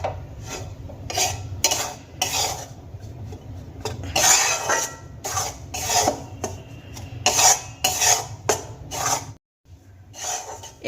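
Flour being dry-fried with a pinch of salt in a pan for homemade gulab jamun, stirred by a utensil that scrapes and rasps against the metal in repeated strokes, close and fairly loud, with one brief pause near the end.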